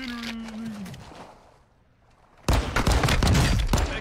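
Video game gunfire breaks out after a quiet stretch, a loud, dense burst of rapid shots that fills the last second and a half, following some fading game sounds and a voice early on.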